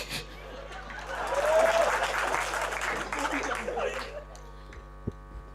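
Moderate audience clapping and chuckles at a Hindi comedy poetry gathering, swelling for a few seconds then dying away over a low electrical hum, with voices mixed in.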